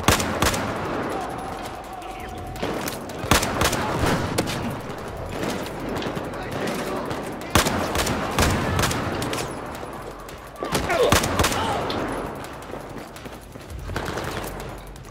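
Battlefield 4 gunfire in the Singapore level, with rapid bursts of automatic fire and single shots recurring throughout, loud and close, while players talk over the shooting.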